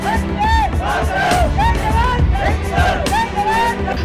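Tribal villagers in Bhamragad taluka, Gadchiroli, celebrate with a loud, close crowd cheer, rising whoops and shouted cries layered over continuous babble.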